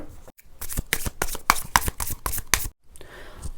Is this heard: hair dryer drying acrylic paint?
no